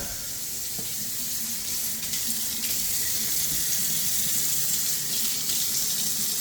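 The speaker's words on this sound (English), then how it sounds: "We'll let the water run for a couple minutes, make sure it gets hot." Tap water runs steadily into a sink, a constant hissing splash with no break, fairly close and moderately loud.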